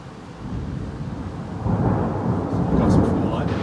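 A massive thunderstorm off Santos, Brazil, rumbles around a cruise ship deck, with a deep, rolling thunder swelling louder midway amid heavy rain wash, loud and close throughout.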